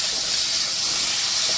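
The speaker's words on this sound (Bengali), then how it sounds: "চিংড়ি মাছগুলো ছেড়ে দিচ্ছি।" Prawns fry in hot mustard oil as part of a Bengali potol chingri dish, producing a loud, steady, broad hiss that fills the short stretch without break, close up and without any voices.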